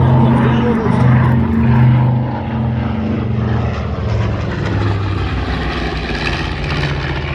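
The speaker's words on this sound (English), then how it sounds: "Once again, on the attack run, the B-25." A B-25 bomber diving on an attack run at an airshow, its radial propeller engines droning loudly and steadily with a throbbing hum, while a commentator's voice carries over the top.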